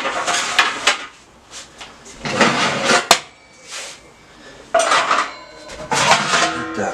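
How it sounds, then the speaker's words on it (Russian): Pans, trays and other metal items are taken out of a home kitchen oven during pizza making: irregular bursts of clattering metal, scraping and knocks, with a sharp clank near the middle and quieter pauses between. "Так, открываю духовку, достаю все."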